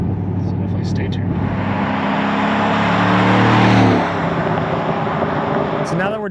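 A yellow 2013 Ford Mustang Saleen S302 with a 625 hp supercharged 5.0L V8 roars steadily at close range, its engine note swelling to a peak near the middle before easing back, with faint voices underneath.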